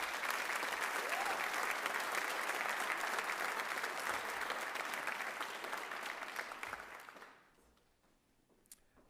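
Audience at a high school senior honors night breaks into sustained clapping that stays full for several seconds, then thins out and fades to near silence, with a few scattered claps at the end.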